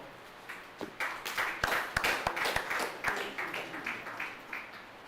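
Audience applause at a press conference and league draw, a scattered round of hand claps that builds quickly and continues at moderate volume, fairly close, with uneven rhythm.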